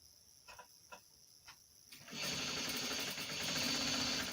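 Sewing machine stitching boxer shorts fabric: a few soft taps and short stitch bursts come first, then a continuous fast, even whirring run of the machine, close and clear, with no talking.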